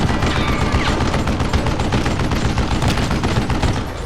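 Dense, continuous gunfire from the Wild West shooter Call of Juarez: Gunslinger, rapid overlapping shots forming a loud unbroken volley that holds steady for about four seconds and eases slightly at the end.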